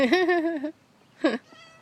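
A kitten meows up close, one drawn-out meow followed by a short second one and a faint trailing chirp.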